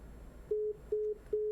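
Telephone busy signal after a dropped call, three evenly spaced steady beeps, faint and alone on a quiet line.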